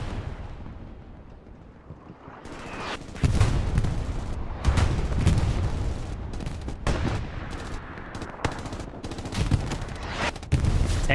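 Sustained gunfire in a Hell Let Loose gunfight, a dense mix of rifle and machine-gun bursts with sharp individual shots and heavy blasts building after a quieter start, loud and continuous throughout.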